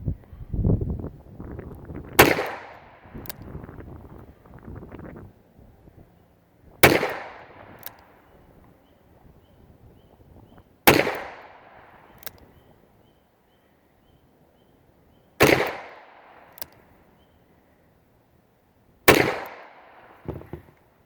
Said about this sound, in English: we are shooting 40-year-old ammunition